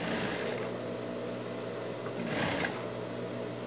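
Sewing machine stitching a dog shirt runs in one continuous close burst, a steady rapid whirr with slight variation in speed as the seam curves, and no talking over it.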